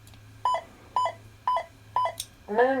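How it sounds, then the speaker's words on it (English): A Luke Skywalker Empire Strikes Back replica lightsaber gives four short, evenly spaced electronic beeps at half-second intervals to signal a font change, followed by a brief rising-and-falling warbling tone. "4 beeps is going to be your font change forward"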